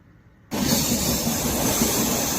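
A steady, loud rumbling roar with hiss starts abruptly after a brief quiet moment, heard from inside a train travelling from Pune to Mumbai.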